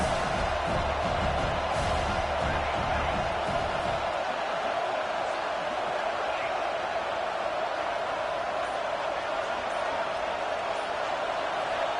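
Steady wash of stadium crowd noise at a college football game, Memphis at Arkansas in College Football 26, a loud continuous roar with no breaks, heavier low rumble for the first few seconds and then evening out.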